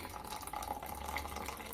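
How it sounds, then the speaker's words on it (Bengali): Cold water is poured into a blender for homemade ghee, a soft, continuous splashing trickle lasting under two seconds, fairly quiet and alone. "এই পানি ব্লেন্ডারে দিয়ে দেব"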